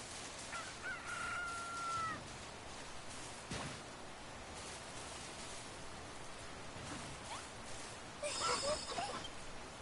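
Chickens cluck and squawk softly in Dragon Quest Builders 2 over a constant rain-like hiss, with a brief call near the start and a cluster of clucks toward the end.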